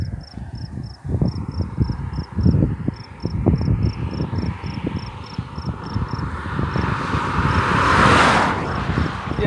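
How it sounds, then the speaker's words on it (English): Vehicles, including a truck, approach and pass on an open rural Kansas road, swelling from a distant rumble into a loud whoosh near the end. A regular high chirping of insects or a beeper runs through it, with low sounds from someone close by. "I got a couple cars coming. Well, one's a truck, he's not gonna pick me up."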